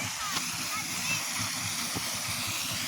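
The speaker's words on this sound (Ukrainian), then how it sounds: "І от фонтан з-під землі." Water gushes and splashes continuously nearby from a fountain rising out of the ground, a steady broadband rush with faint voices in the background.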